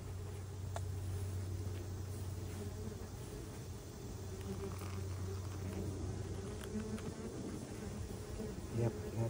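Yellow jacket ground wasps swarm around their nest, giving a continuous, fairly faint buzzing drone with occasional louder passes close by, without speech.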